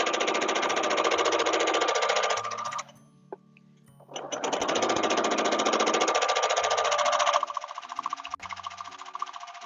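A quilting sewing machine stitches through a quilt along a stencil pattern, running in a steady, loud whir that stops briefly for about a second before starting up again and continuing.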